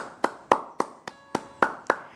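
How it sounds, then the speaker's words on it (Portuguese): Several sharp hand claps ring out at a steady beat, about seven in two seconds, close and distinct, as applause for finishing a Bible study of Genesis, with no talking. "Ele merece aplausos."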